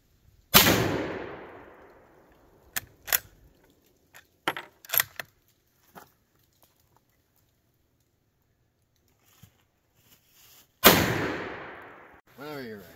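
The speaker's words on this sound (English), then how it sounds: "We're shooting a Turkish Mauser here." Two loud, sharp gunshots from a Turkish Mauser rifle fired outdoors at a Wisconsin deer hunting camp, each with a long decaying echo, separated by handling clicks and rattles.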